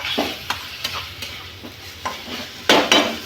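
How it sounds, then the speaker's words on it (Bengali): Ginger-garlic paste stirred around a hot pan with a soft sizzle, a series of sharp spoon scrapes recurring at an uneven rhythm, close by, with no talking. "আদা রসুন পেস্টটা এখন ঘাটা হচ্ছে, দেখুন আমি নাড়া হচ্ছে"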